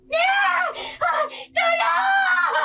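A woman's loud, piercing scream in a dramatized Filipino aswang horror story, sustained for most of the moment with a brief break midway, close and alone.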